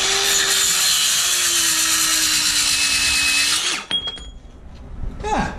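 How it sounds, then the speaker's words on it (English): A battery-powered DeWalt 20V saw fitted with an old circular saw blade whines loudly and steadily up close while cutting, then winds down and stops, followed by a few faint clinks. "That's with a battery-powered saw, too, by the way."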